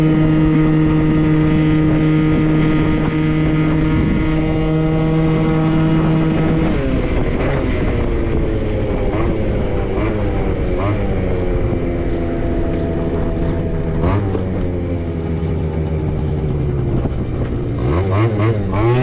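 A big bore Yamaha Zuma scooter engine runs loud and steady throughout, its buzzing harmonic drone holding pitch and then rising and falling as the throttle is worked, with no talk over it.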